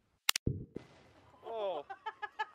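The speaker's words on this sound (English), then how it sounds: "maybe going through the gas will make it expand more and it'll blow up with more of a bang" A Tannerite and gasoline charge detonates under books outdoors, a single sharp distant bang right at the start, followed by quiet and then people talking close by.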